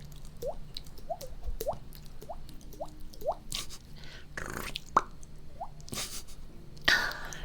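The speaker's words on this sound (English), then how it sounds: "I need to get better with my mouth noises again." ASMR mouth noises, a series of close, wet clicking pops in an uneven rhythm, joined by a few breathy bursts and soft smacks near the end.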